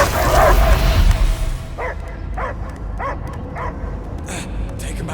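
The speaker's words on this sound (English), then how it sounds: "I hear only barking." A dog barks in the Guardians of the Galaxy video game, several short yelping barks repeating at a steady pace under game voices and background sound.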